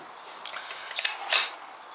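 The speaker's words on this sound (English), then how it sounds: "Send the bolt home, as you guys can see." The bolt of a Ruger PC9 carbine is sent home after the barrel is reattached, giving a few brief, sharp metallic clicks and a final louder clack in a quiet room.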